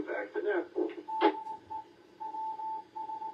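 An amateur radio repeater on a Hampton Roads public service net in Virginia Beach sends its station ID as Morse code: a clipped radio voice speaks first, then a steady beeping tone keys on and off in dashes and dots.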